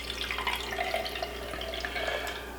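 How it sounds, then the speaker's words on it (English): Regular water pours into a can, a steady soft trickle and splash running continuously at low level without talk. "we're going to put just regular water inside the can"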